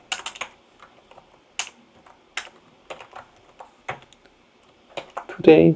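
Fingers tapping a computer keyboard in short clusters of quick clicks with pauses between, close and crisp, ending on a heavier keystroke like the Enter key under a brief murmur of voice.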